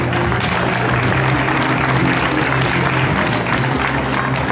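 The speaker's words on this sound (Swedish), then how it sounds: "En stor applåd till samtliga!" A crowd gives loud, sustained applause for the top runners at the Kretsloppet race in Borås, a dense continuous roar of clapping with no voices on top.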